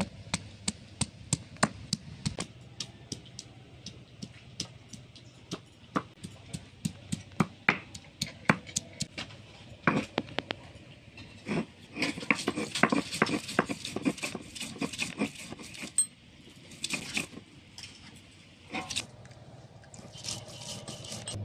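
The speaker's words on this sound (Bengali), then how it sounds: "এবার আমি মশলাটাকে বেটে নেব। রসুনটা একসাথে বেটে নেব।" Garlic and spices being ground together on a stone slab, a loose run of close, sharp knocks and scrapes with brief pauses between bursts and no voices.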